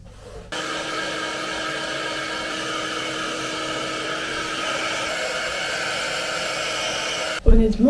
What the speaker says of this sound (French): Je vais aller me brosser et me sécher les cheveux.